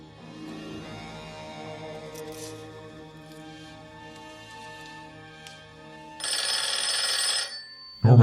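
A telephone rings in the film Psycho II, a bright electric bell burst of about a second standing out over a quiet, tense musical score, moderately loud.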